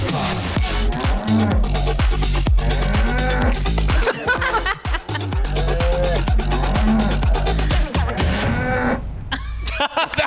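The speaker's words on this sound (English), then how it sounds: "I put together a techno song featuring cows" Loud techno track built from cow moos, with repeated pulsing beats and drawn-out bovine lowing sampled over the rhythm, playing continuously for about ten seconds before dropping away at the end.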